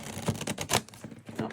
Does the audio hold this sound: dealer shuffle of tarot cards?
yes